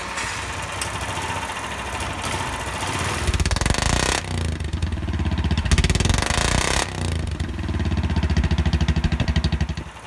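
A small 420cc fuel-injected supercharged go-kart engine cranks and fires up, then runs loudly with a rough, choppy idle and revving pulses, briefly dropping off twice before catching again.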